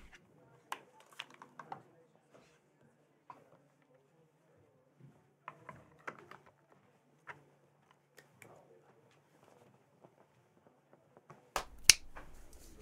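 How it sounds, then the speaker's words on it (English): Sharp finger snaps and claps at a card table, scattered and fairly faint through most of the stretch, with a louder burst of clapping near the end. "he's clapping and snapping"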